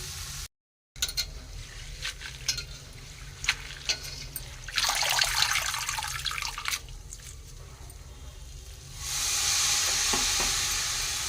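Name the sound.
coriander frying in oil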